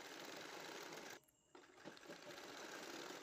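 Sewing machine stitching a blouse shoulder, a fast steady mechanical whir up close that pauses briefly in the middle before running on.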